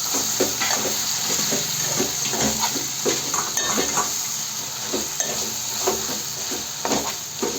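A spoon scrapes and clinks against a pan as salted mutton curry is stirred, with soft sizzling underneath and repeated metallic taps through the stirring.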